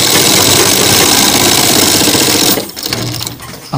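Sewing machine stitching the waistband of men's trousers, a loud steady mechanical whir with rapid needle chatter that runs continuously before abruptly slowing and stopping near the end.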